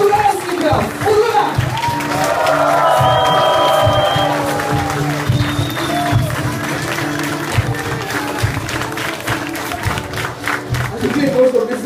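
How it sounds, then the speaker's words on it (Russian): A crowd at an office party claps and cheers, loud at first and then thinning out, with people talking and calling out over the noise throughout. "Ваши аплодисменты, друзья!"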